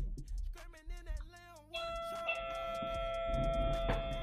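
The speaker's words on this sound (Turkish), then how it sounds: "kapı çaldı cidden" A two-tone doorbell chime rings out clearly, its tones lingering and overlapping as they fade, with faint background noise beneath.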